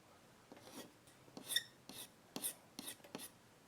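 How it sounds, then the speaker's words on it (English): Scratching on the surface of an illustration board comes as a handful of short dry rasping strokes, each quick and separate, close and fairly quiet with pauses between them and no voices. "Let's try scratching here."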